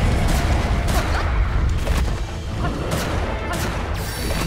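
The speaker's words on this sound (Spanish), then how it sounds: "Pues al demonio le vamos a pegar 4 tiros." Gunshots against a demon boss in the video game Bloodstained: Ritual of the Night, a dense run of loud booming blasts and crashes packed close together, with no talk over them.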